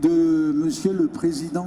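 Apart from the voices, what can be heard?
None of the usual background noises is heard.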